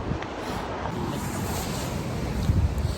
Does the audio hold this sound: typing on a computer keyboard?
no